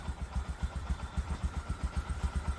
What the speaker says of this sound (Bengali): আলহামদুলিল্লাহ আমরা গ্যাসে মোটরসাইকেল চালাইতেছি।